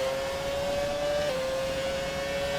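F1 race car in F1 2017 accelerating, a steady high-pitched engine whine holding a constant tone with a slight pitch shift, loud and continuous.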